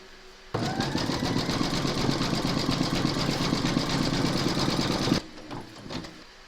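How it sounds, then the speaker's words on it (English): An embroidery machine stitches a satin edge around the top label of an in-the-hoop notebook cover, a loud, fast mechanical rattling hum that starts abruptly, runs steadily for several seconds and stops sharply. "Load your thread colour for the satin stitching around the edge of the top label into your machine, and then stitch round number 11."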